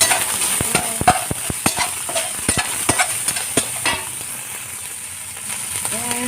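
Eggplant with minced pork and chili sauce is stir-fried in a pan, rapid spatula clacks against the metal over a constant loud sizzle, the strokes thinning out near the end.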